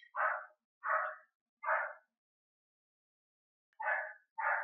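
Dogs bark in the void scene of a Five Nights at Freddy's animation, three sharp barks in quick succession, a silent gap, then two more, loud and close, with no talk over them.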